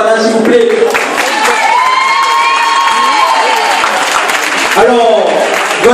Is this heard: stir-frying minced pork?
no